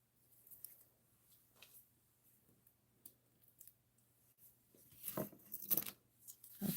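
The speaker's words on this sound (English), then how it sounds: "Take off my paper backings." Paper backings being peeled off stickers, heard as faint, close rips and crinkles that build into louder tearing bursts toward the end.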